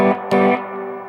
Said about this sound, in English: But when you dial in the distortion, you'll start kicking in the clipping diodes.